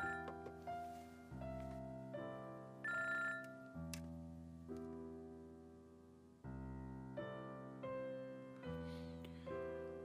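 A telephone ringtone plays a repeating electronic melody in regular cycles, clear and moderately loud, with no talk over it.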